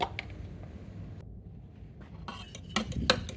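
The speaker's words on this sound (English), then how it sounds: "we're going to keep mixing it until the mixture has thickened" A spoon works lemon meringue pie filling in a pan on a low hob heat, giving soft scraping strokes and a few metallic clinks against the pan, louder bursts near the end, with no talking.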